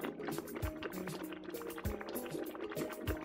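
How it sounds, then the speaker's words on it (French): Broth bubbles in a witch's cauldron over a fire, a soft continuous liquid burble with a few deeper plops, faint and close, with no voices. "elle alluma un feu pour sa marmite remplie de bouillon"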